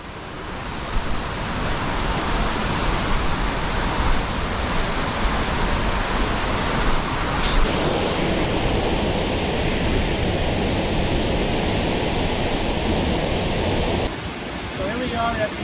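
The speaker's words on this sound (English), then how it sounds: "So here we are at the Sekumpul Waterfall." Sekumpul Waterfall in Bali pours with a steady, dense roar, loud and close, unbroken the whole time with only a slight shift in texture near the end.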